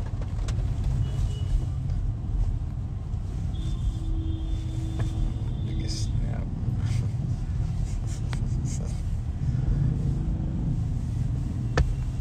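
Steady low road rumble of a car in motion, heard from the passenger seat, continuous and moderately loud with faint tonal hums drifting above it.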